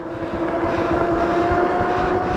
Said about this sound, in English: That torque sensor will cause the motors to rev up.